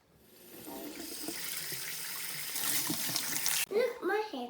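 A kitchen tap runs as hands are washed, a steady rushing stream that builds and then sputters and splashes as hands move under it, while someone talks over it near the end.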